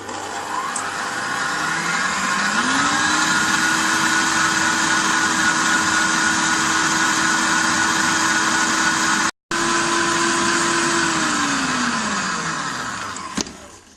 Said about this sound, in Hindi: हाई स्पीड पे मैं बीटर स्टार्ट करती हूँ चलाना